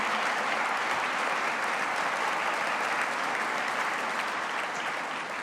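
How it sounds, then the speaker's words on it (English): Audience applause after a music performance at a poetry recitation event, a steady dense clapping from a large crowd, loud and continuous throughout without talk. "please, if you could clap just to let her know how much you enjoyed that music"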